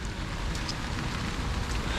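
Steady rain pours down with a dense, hissing patter, close and continuous throughout.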